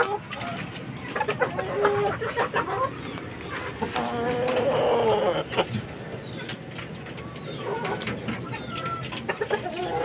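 Gamecock chickens cluck and call repeatedly at close range during feeding, with a scattered chorus of bird sounds and occasional faint background noise.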